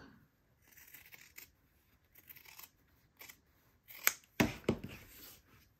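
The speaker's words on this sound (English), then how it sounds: "now I'm just going to use my scissors and cut back the seam allowance on this side by about half" Fabric scissors trim back a sewn seam allowance in a few quiet, close snips and crunches, with soft handling rustle in between and no talk.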